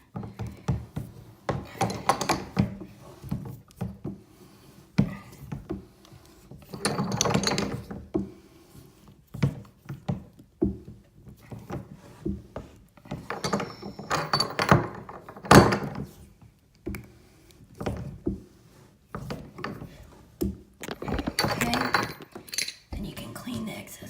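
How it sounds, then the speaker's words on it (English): Metal clanks, ratcheting clicks and thunks of a tub drain being tightened down into plumber's putty, in irregular close bursts with quiet gaps, no talk, while replacing a drain with a broken crossbar. "And you just keep tightening."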